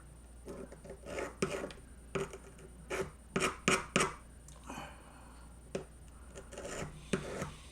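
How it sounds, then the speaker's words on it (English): A model kit part is sanded flat by hand in a run of short, uneven scratchy strokes, some bursts louder and closer than others, with pauses between and no speech. "all you have to do is sand this surface flat right here"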